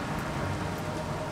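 Rain in a Minecraft-style video game, a dense, steady hiss of falling rain with no voices.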